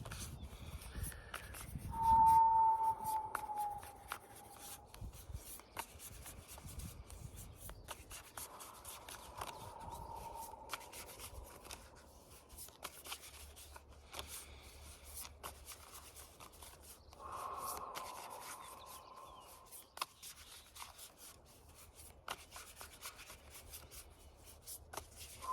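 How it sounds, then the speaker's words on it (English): Thistledown Oracle cards shuffled by hand, giving soft, faint rubbing and sliding swishes that come and go over a long stretch, with occasional light taps and a low hum in a quiet room. "one thing I'm hearing while I'm shuffling the deck here"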